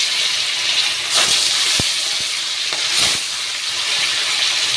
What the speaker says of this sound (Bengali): কড়া গরম হয়ে গেছে, তেল দিয়েছিলাম। তো মাছটা ছেড়ে দেবো।